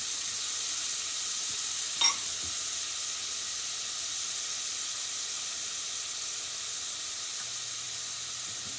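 Onion sweating in a frying pan with butter, a steady, quiet sizzle and hiss running evenly throughout, with one brief sharp click near the start.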